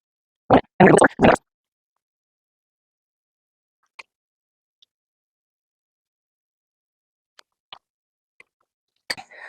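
Pineapple sweet and sour jelly boils in a pot with a few louder bursts early on, then sparse, faint plops and pops scattered through an otherwise quiet stretch.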